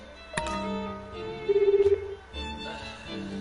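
A telephone in the video game Crystar gives a rapid electronic trill, a short buzzing burst of pulses, amid soft game music and tonal chimes.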